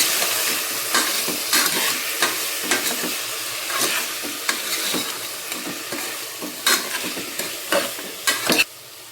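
Vegetables for a temple-style sambar fry in oil while a spoon stirs them, a continuous sizzle broken by repeated scraping and clinking strokes against the pan, with no talk.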